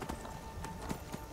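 Horse hooves clip-clop in the video game Skyrim, a quick run of fairly soft, rhythmic hoofbeats over a steady background, with no talking.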